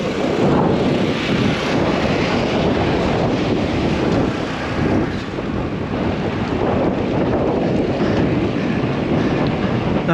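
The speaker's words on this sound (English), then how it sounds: "Riding west over Lake Houston, the wind was brutal from the side, kept wanting to push me right" Strong crosswind roars steadily against the microphone on a bike ride west over Lake Houston, a dense continuous buffeting rush with no letup and no talk.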